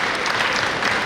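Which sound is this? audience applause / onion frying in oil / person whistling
audience applause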